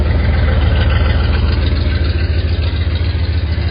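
A restored 1979 Lil Red Express truck engine idles steadily up close, a loud, even low rumble with a regular pulsing beat and no talk over it.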